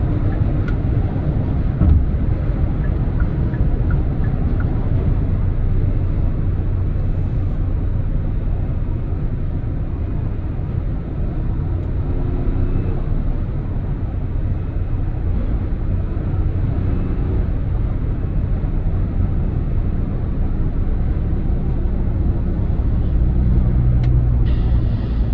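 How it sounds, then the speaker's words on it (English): Inside a moving Hyundai car, a steady, loud, dense roar of wind and road rumble fills the cabin without letting up. "this car, you guys probably heard the wind noise now"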